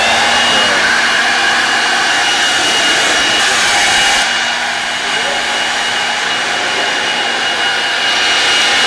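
A Milwaukee leaf blower runs steadily, giving a loud, continuous whooshing roar close by for the whole stretch, with a slight dip in intensity partway through.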